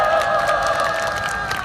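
Rally audience at a political speech on a presidential impeachment, a brief burst of steady applause with crowd cheering, held evenly throughout.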